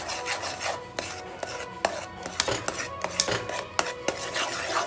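A flour mixture is stirred in a mixer jar for laddu, making close scraping, rubbing strokes with repeated sharp clinks against the jar in an uneven rhythm, with no talking.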